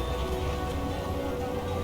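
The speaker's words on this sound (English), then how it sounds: "And now it's raining." Steady rain falls in the city-building game Cities: Skylines, a dense, even hiss of drops with a low rumbling undertone, constant and moderately loud with no voices.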